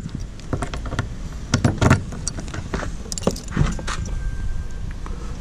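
Keys jangle and clink in sharp, irregular bursts inside a 2005 Elddis caravan, close by and fairly loud.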